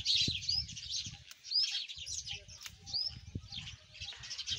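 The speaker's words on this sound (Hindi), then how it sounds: "और देखो चिड़ियों की भी आवाज़ आ रही है, यहाँ पे बहुत सारी चिड़िया बैठी हुई है इस मधुमालती पे।" Many small birds perched on a Madhumalati vine in a garden, giving faint high chirps and tweets scattered across the clip over low background rustling.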